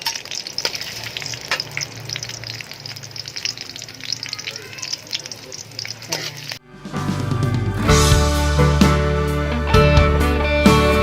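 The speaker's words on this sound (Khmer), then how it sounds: "យើងចាក់ដាក់ខ្ទឹមសរបស់យើងហ្នឹង" Garlic hits hot oil in a pan while stir-fried cucumber with pork is being cooked, bursting into a loud, steady sizzle halfway through after a quieter stretch of light crackling.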